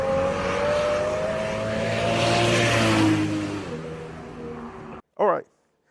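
A BMW race car engine, apparently an E-series build, fires up from a turnkey start: a short loud burst of ignition and catch near the end, after a long stretch of steady broadband engine or ambient rumble under faint talk.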